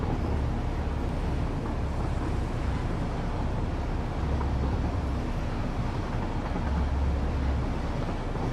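A train rolls along a player-built track in the Satisfactory video game, a steady, continuous low rumble with a rushing wash over it and no break in the sound.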